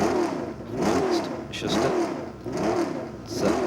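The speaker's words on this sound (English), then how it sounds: "In comes the Ferrari 312B3." Ferrari 312B3 racing car on a hillclimb demo run, its engine revving in repeated rising sweeps at close range, loud and continuous across the short stretch with no talk.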